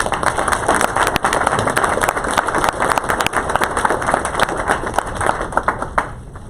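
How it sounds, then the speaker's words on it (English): Audience at a TSA Veterans Day ceremony applauding veterans, with steady, loud clapping from a large crowd that continues for several seconds before thinning slightly at the end. "A round of applause."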